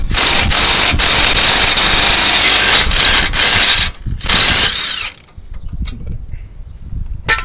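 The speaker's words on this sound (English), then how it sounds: "we're going to be using the impact again to get these two 18mm bolts off" An impact wrench loudly rattles and hammers in long bursts while removing 18mm brake caliper bolts, with brief pauses before cutting off, followed by quieter clinking of parts.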